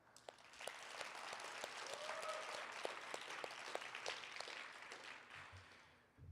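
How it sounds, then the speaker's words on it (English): An audience at an outdoor stage event applauds for several seconds. The clapping is distant and fairly soft, with a few sharper individual claps standing out. It swells, then tapers off toward the end. "I'd just like to give a round of applause to everybody that presented their speeches before me"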